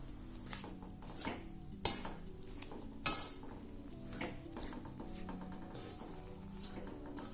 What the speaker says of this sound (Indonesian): Jangan lupa diaduk ya di sana biar ndak angung di bawahnya